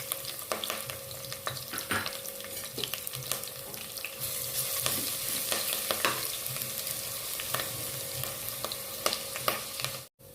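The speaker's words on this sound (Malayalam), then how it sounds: "ഇഞ്ചി ഫ്രൈ ആയി വന്നിട്ടുണ്ട്" Ginger garlic paste with cumin seeds sizzling and spitting in hot oil in a pan, a continuous crackling fry close up with occasional stirring clatter and no talk.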